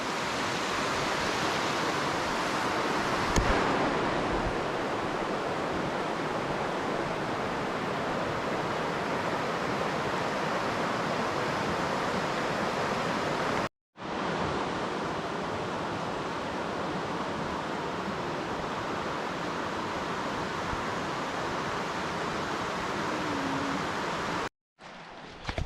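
East Fish Creek water flowing, a dense, steady rushing wash heard up close and alone, with two brief dropouts.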